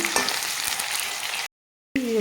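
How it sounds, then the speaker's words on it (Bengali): Potatoes frying in hot mustard oil with five-spice seeds give a steady, close sizzle with faint stirring, then a sudden gap of silence before the sizzling resumes. "আমি একটু হালকা করে ভেজে নেব"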